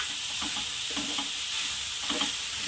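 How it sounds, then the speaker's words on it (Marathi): Grated sweet potato is stirred in ghee in a pan for a halwa, a soft continuous sizzle with gentle rhythmic scraping strokes and no voices. "याला तुपामध्ये छान असं मऊ मऊ पडेपर्यंत हलवत राहायचं आहे"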